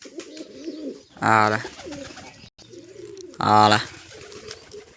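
Pigeons coo in two loud, close bursts while coming to eat grain and rice scattered by hand, with a voice calling to them in the gaps.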